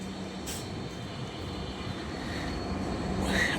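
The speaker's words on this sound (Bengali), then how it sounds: "আর এখন যে ট্রেনটা দাঁড়িয়ে আছে টঙ্গী জংশনের মধ্যে, সেটা হচ্ছে একতা এক্সপ্রেস, ঢাকা টু পঞ্চগড় যাবে" A broad-gauge passenger express train idles at a railway junction in Bangladesh, giving a continuous low rumble and hum with faint higher hiss, steady and moderately close, no voices.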